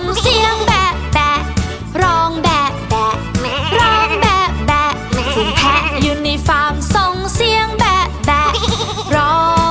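Goats bleat over a loud, busy children's song backing, with bright layered tones and steady rhythm throughout.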